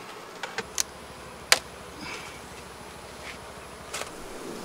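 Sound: honey bees buzzing around an opened hive

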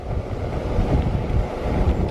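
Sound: wind blowing

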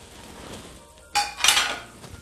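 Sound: stirring chili garlic shrimp simmering in sauce in pan

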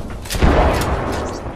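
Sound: frag grenade explosion in Apex Legends video game

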